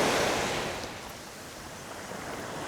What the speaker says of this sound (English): I can see the waves are crashing against the rocks.